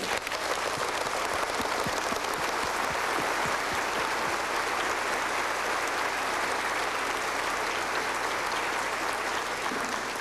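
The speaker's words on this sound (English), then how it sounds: "Please join me in applauding these magnificent drill instructors." Audience at a Marine Corps Recruit Depot Parris Island graduation applauding the drill instructors, dense sustained clapping from a large crowd filling the whole stretch, loud and even throughout.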